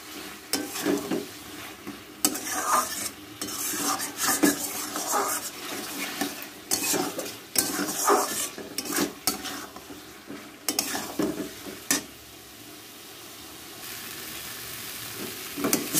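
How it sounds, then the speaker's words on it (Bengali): Potatoes tossed with spice paste sizzle and fry in a pan under steady, repeated stirring and scraping. The sound is close and continuous, with rhythmic bursts of ladle strokes over the hiss. "এবার আমি আরও কিছুক্ষণ কষাবো।"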